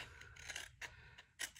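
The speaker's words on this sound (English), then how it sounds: "I'm going to cut this section out" Scissors cutting paper for a mini junk journal folio, several short crisp snips in an uneven rhythm, close and very quiet with no talk.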